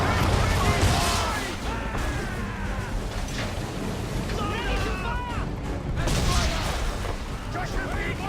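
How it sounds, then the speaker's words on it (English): Naval cannon broadside fire aboard a sailing warship in Assassin's Creed 3, booming volleys under shouted orders and steady sea-and-wind noise, with voices talking throughout. "Fire broadside!"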